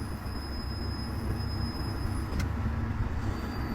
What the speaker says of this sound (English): you can hear that relief valve squeal, but let it squeal a little bit